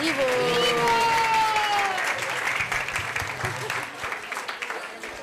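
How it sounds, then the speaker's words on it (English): Audience applauding after students' drama at a Sunday school annual day celebration in a temple hall, steady dense clapping that gradually thins out, with a voice talking over it at the start. "Give a big clap for all these wonderful students for this wonderful drama."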